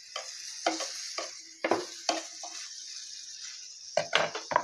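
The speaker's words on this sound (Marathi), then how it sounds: "असं डायरेक्ट मी तव्यावरच टाकलेला आहे, जेणेकरून ते सगळीकडे व्यवस्थित लागेल. जास्त बटर लावून भाजायचा मस्त." Buttered paratha roasting on a tawa, soft sizzling punctuated by repeated spatula scrapes and taps in irregular bursts, close by with no talk.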